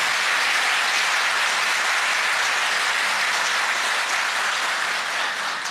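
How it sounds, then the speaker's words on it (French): Sustained audience applause at an official ceremony for the President of the National Assembly, loud, dense and even throughout, with no voices over it. "Second bon applaudissement pour Adama Bictogo."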